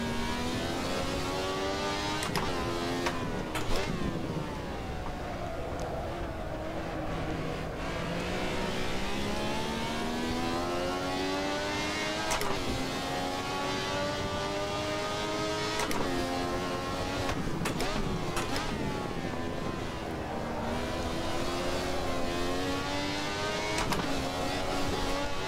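Ferrari 312T race car lapping Imola in Assetto Corsa, its high-pitched engine wailing continuously as revs rise and fall through gear changes and corners, loud and up close with no talking.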